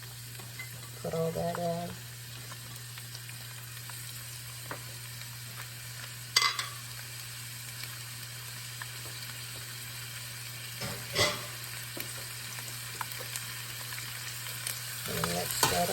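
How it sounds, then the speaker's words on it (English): Chopped onion and minced garlic fry in a pan for chicken adobo, a steady close sizzle over a constant low hum, with occasional bursts of stirring and a brief spoken remark. "I'm going to go ahead and put in my chopped onions."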